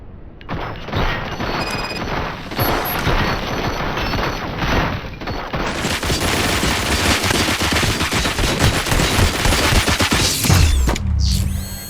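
Sustained gunfire and mechanical clatter from a firefight in the RoboCop: Rogue City video game, loud and dense throughout with bursts layered over a continuous roar of game effects, no talk.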